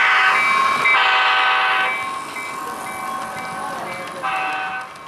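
Model trains on a club layout run along the track with a loud rushing hum, and a horn-like tone sounds in bursts over the rolling noise.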